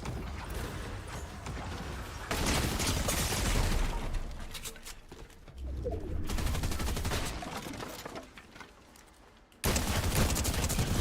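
Heavy-recoil gunfire bursts in a competitive ranked shooter game, loud dense volleys in several blocks with quieter gaps between, mixed with mechanical clatter.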